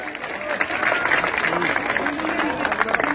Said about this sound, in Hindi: दर्शकों से अनुरोध है, थोड़ी जोरदार ताली हमारे सभी लोग।